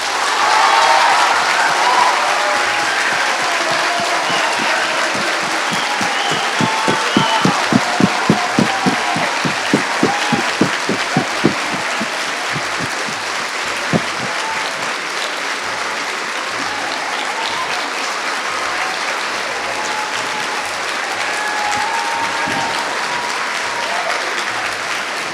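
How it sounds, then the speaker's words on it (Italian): An audience in Friuli Venezia Giulia gives Alessandro Barbero warm applause at a Bookstop event, loud sustained clapping from a large crowd, with a stretch of rhythmic, in-time clapping partway through before it settles back into a steady roar. "Allora facciamo sentire quanto è caldo l'applauso di questa regione del Friuli Venezia Giulia"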